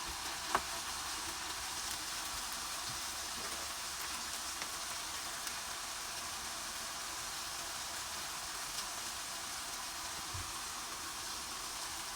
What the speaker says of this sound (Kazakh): Piyazımızı salып қуырамыз.